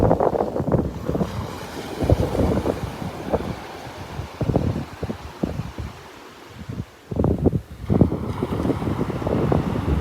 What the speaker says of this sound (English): That wind is really starting to pick up.